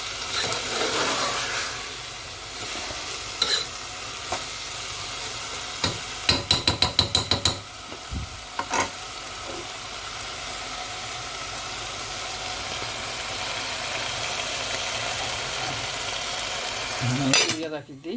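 Onions frying and being stirred in a pan while cooking pilaf with meat, a steady soft sizzle broken by a quick burst of metallic spoon clinks and scrapes around the middle, no talk.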